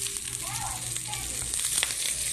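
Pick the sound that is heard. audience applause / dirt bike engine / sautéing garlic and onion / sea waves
sautéing garlic and onion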